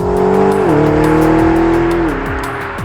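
McLaren GT 4-litre twin-turbo V8 engine accelerating hard, a loud close snarl rising in pitch through the gears with brief dips at the shifts.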